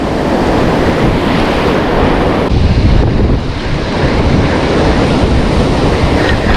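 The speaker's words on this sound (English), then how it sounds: "So swells have gone up a fair bit." Ocean swell on a beach during shore fishing, a loud continuous roar of surf with heavy wind buffeting the microphone, and no voices.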